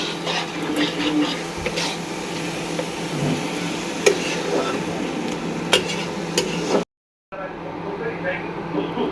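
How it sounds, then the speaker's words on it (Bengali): Spice masala being stirred and fried in oil in a pan for a teli koi fish dish, a continuous soft sizzle with scraping strokes, briefly cut to silence before resuming. "এবার জাস্ট এই মশলাটাকে ভালো করে কষাও।"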